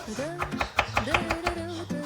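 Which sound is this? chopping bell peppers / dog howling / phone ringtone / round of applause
chopping bell peppers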